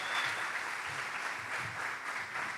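A church congregation claps in steady, continuous applause, moderately distant and filling the room, with no voices over it.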